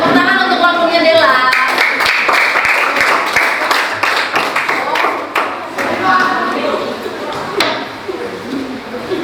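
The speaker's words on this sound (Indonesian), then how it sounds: "Tepuk tangan untuk kelompoknya Dela." A classroom of students claps for a presenting group, with dense, loud clapping and sharp individual claps that gradually thin out, while voices talk over it.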